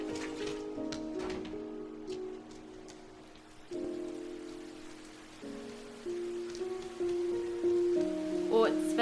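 Steady rain patters down in the PS3 game Rain, a soft continuous hiss running under layered musical tones that swell and shift throughout.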